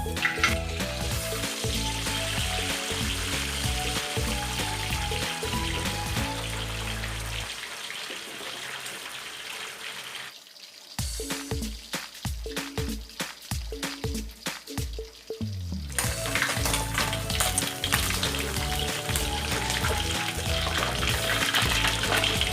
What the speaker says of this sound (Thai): น้ำมันเริ่มร้อนแล้วนะครับ นำตัวปลาลงไปทอดเลย